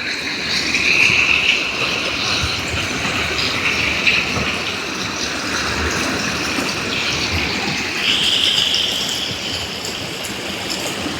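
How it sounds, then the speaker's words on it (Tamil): Floodwater rushes and churns steadily on Karaitivu island near Jaffna after heavy rain, a continuous loud gushing roar with broadband hiss, close and unbroken throughout, with no voices over it. "தண்ணி வெளியில் போயிருக்க அப்படி கொந்தளிச்சு கொண்டு வெளியில் போகுதுன்னு பாருங்க."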